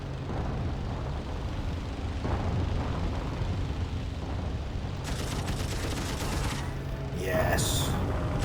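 Machine-gun fire at an enemy plane in the flight combat game Wings Remastered, a rapid rattling burst or two over a steady engine drone, with a louder flurry near the end.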